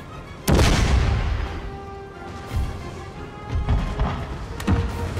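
Cannon fire from an artillery battery during a large Napoleon: Total War battle against Great Britain: three heavy, close booms spread a couple of seconds apart, each with a rumbling tail over steady battlefield noise.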